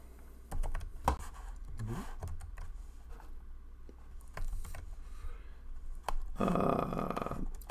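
A computer keyboard clatters with scattered, uneven keystroke clicks, fairly close and quiet, with a brief voice-like murmur in the middle.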